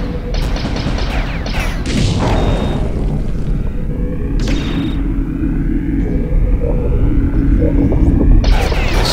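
Heavy booming crashes and rumbling explosions as a Megatitan is destroyed in the Revenge of the Titans strategy game, several loud impacts spread across about nine seconds over a constant low roar.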